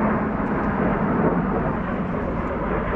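Jet aircraft fly overhead, producing a continuous broad roar that holds steady and loud throughout with no other sounds.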